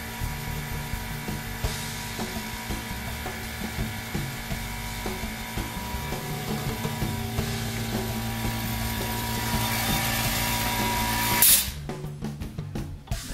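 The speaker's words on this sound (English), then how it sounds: "You can hear the sound of the air coming out, very quiet. The compressor itself is muffled behind the cabinet." A small Senco PC1010 air compressor runs muffled behind a cabinet while air hisses out, a quiet steady whir with a faint tonal hum and a brief louder burst near the end.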